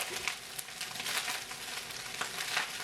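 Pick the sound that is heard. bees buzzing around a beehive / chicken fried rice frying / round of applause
chicken fried rice frying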